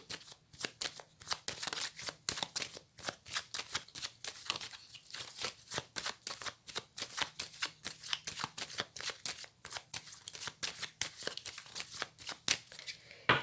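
A tarot deck is cut and shuffled close by, a dense run of rapid papery flicks and riffles in steady bursts, soft and with no talking.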